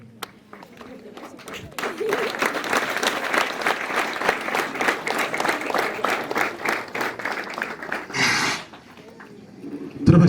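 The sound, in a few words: audience applauding the sacrament recipients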